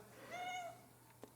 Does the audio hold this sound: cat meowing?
yes